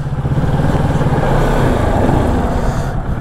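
A Kawasaki Ninja 650 motorcycle engine revving hard during a burnout, a loud, close, steady low roar that holds for several seconds without letting up.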